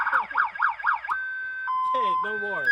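Novelty car horn on a truck blaring a siren sound: loud rising-and-falling wails repeat four times, then switch to a steady held tone and a harsher warbling blast, close and dominating.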